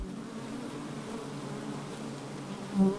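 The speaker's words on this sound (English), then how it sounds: "There's congestion in front of the entrance. Each bee waits in a disciplined manner until the flight path is free." Honey bees crowd the entrance of a hive at winter's end, making a steady, low, close buzz that holds evenly throughout, with one slightly louder swell near the end.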